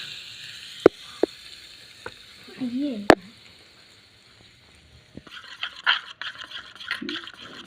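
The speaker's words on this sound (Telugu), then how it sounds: "వీటిని చట్నీలోకి పోపు వేసుకుంటున్నామండి" Tempering for a chutney sizzles briefly in hot oil, with a few sharp clicks and clatters of a pan and utensils around it, close and moderately loud, followed by a burst of crackling frying.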